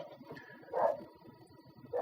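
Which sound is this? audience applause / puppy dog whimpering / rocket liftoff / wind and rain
puppy dog whimpering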